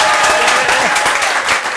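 Studio audience at a Kenyan comedy show applauding a guest named Thuku, dense, loud clapping filling the room continuously with some crowd noise mixed in.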